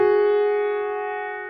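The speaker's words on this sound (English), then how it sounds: "So what if we want to play do, re at the same time? It would sound like this." Two piano notes, do and re, struck together as a single sustained dyad that rings clearly and decays slowly, alone with no voices.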